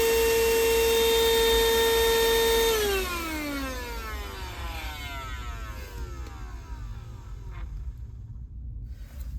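A Woscher portable car vacuum cleaner whines loudly, its motor pitch dropping as it spins down after a few seconds, then continuing as a softer, rough whir for the rest of the clip.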